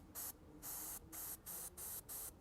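An airbrush spraying paint onto a scale model, sounding as a series of five or six short, close hissing bursts with brief pauses between them and no talk.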